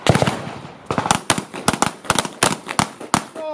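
Gunshots from shooting training ring out in quick close pairs and singles, sharp loud cracks spaced by short pauses across the whole stretch.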